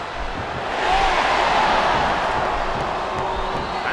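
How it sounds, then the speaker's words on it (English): Arena crowd cheering in the wrestling video game Smackdown vs RAW 2007, a dense, sustained roar of fans swelling and holding, loud and continuous with no clear gaps. "Now the fans start to cheer for him."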